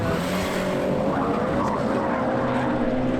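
A Subaru Impreza Type RA and a Mitsubishi Evo VIII MR race through a track chicane, their engines roaring loudly and steadily as revs rise and fall, with tyres scrubbing through the turns.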